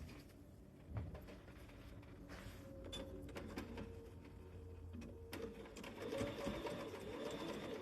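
A sewing machine stitches fabric in a steady close whirring run, with a brief pause and restart as it backstitches, and no one speaks.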